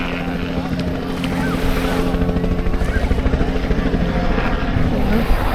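Helicopter passing over the summer beach at Canasvieiras on Florida Island in Brazil, a loud steady rotor thump with a rhythmic chop that grows stronger, mixed with wind noise buffeting the microphone.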